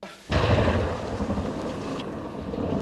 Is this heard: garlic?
no